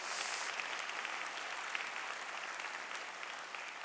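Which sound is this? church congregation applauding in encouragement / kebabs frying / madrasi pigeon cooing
church congregation applauding in encouragement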